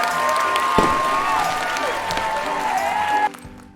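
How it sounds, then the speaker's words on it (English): Applause and cheering follow a children's farm-animal spelling lesson, a bright crowd-like wash layered with tonal sound effects before cutting off abruptly near the end. "Give yourselves a big round of applause."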